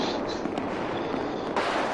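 A grenade bursts in the video game Battlefield 4 as a sharp crack followed by a rough, sustained rumble, with a second crack near the end, all moderately loud.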